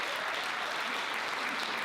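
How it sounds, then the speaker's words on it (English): Opening-night audience at the Spokane International Film Festival applauding, a dense, steady wash of many hands clapping at once, fairly faint and distant, with no voices standing out. "Give yourselves a round of applause, please."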